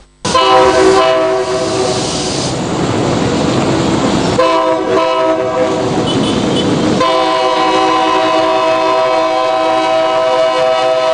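A passenger train pulls into a Nigerian Railway Corporation terminal at night, its horn blaring in long, loud, sustained blasts over the rumble and hiss of the rolling cars.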